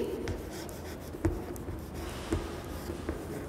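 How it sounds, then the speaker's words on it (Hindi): Marker or chalk writing on a board in a class 1 maths lesson, soft scratchy strokes with a few light taps, quiet and close, no voice over it. "तो मैं डिसेंडिंग लिखती हूँ"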